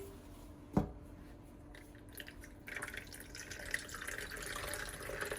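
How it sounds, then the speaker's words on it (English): Water drips and trickles as cassava dough for kwanga is wrung out by hand, opening with one distinct splash, then quiet squishing and a growing soft stream of runoff, close up. "As you can see, there's just water, excess water coming out."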